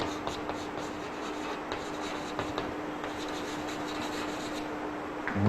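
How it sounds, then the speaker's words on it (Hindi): Chalk or marker scratches and taps on a board during a physics lesson, a string of short rubbing strokes and clicks at moderate distance over a steady background hum, with no talk. "मैं इधर लिखता हूं"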